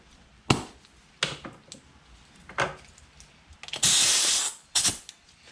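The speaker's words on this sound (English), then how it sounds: "take my air compressor, and what I'm going to do is hook up an air jet to it" Sharp bursts of compressed air from an air compressor's air jet blow in short hissing puffs, clearing moisture from a Mikuni carburetor, with one longer continuous blast near the end, close by.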